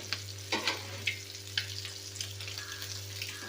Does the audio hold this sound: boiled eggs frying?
yes